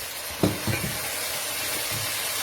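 Onion and tomato sizzle in a pan for a fish curry with fish roe: a steady close hiss of frying, with a couple of soft stirring knocks near the start.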